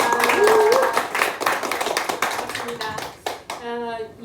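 Audience applause greeting the chair at an architecture exhibition open talk, a fairly loud burst of clapping that gradually thins out, with voices heard over it.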